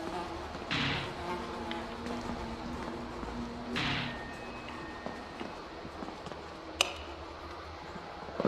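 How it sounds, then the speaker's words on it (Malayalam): Insect buzzing, like flies, in the horror video game Reporter Escape, set in a mental hospital. The drone is faint and steady, with a few louder swells and a brief clink near the end. "ഈച്ച ശല്യം."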